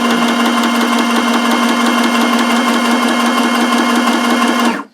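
A sewing machine runs a straight stitch around a corner on a baby book's fabric pages. It makes a steady, loud mechanical whir with rapid even needle ticks for several seconds, then stops abruptly.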